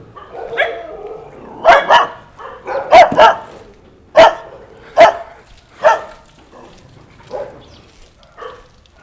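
Several dogs barking at a rescue shelter, loud sharp barks repeating irregularly through the whole stretch, some near and some farther off, with no talk over them.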